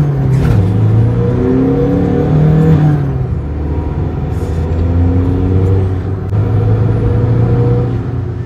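A modified Stage 2 Volkswagen Polo TDI launches hard with a loud, rising diesel engine note that climbs through gear changes, close and without talk.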